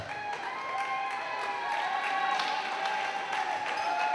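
Fontainebleau High School fans clap in the stands at a high school volleyball match, light scattered applause heard from a distance over steady gym crowd noise.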